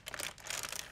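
Crinkly material being handled close up, a dense soft crackling and rustling that runs steadily through a brief moment.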